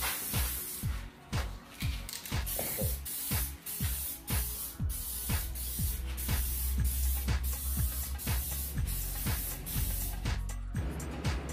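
A spray can hisses in short repeated bursts while coating fender flares for a 2003 Jeep Liberty, the pulses close and fairly loud with brief gaps between them.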